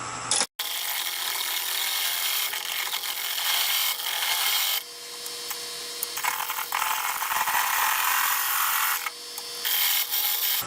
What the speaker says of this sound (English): I'm going to take my parting tool and cut some deep notches on the ends.